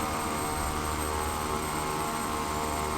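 A King Air 350 twin turboprop in a flight simulator sits at idle around 8% engine, giving a steady, even drone with a constant high whine, alone and unchanging throughout.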